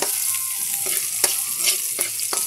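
Ginger sizzles in hot oil in a pan with a steady crackling hiss, broken by quick scraping stirs, close up and with no voices.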